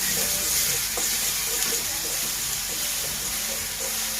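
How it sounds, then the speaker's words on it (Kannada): Green chili paste fries in hot oil for a dill-leaf and lentil stir-fry, giving a loud, steady, close sizzle with a few faint stirring clicks and no pause. "ಹಸಿಮೆಣಸಿನ್ಕಾಯಿ ಪೇಸ್ಟ್ನು ಹಸಿರು ಸ್ಮೆಲ್ ಹೋಗಿ ಚೆನ್ನಾಗಿ ಅದು ಎಣ್ಣೆ ಒಳಗೆ ಫ್ರೈ ಆಗಬೇಕು"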